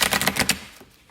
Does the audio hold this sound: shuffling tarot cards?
yes